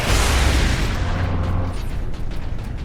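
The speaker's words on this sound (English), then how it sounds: "Missile launcher." A missile launcher explosion in the Warhammer 40,000: Space Marine video game, a loud, close, rumbling boom that starts at full force and slowly decays into a fading roar with scattered debris crackle.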